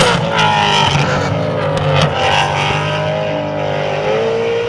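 A Maserati Gran Turismo Sport road car's engine drones steadily from inside the cabin while driving, with a loud, continuous rumble and slight rises and falls in revs throughout.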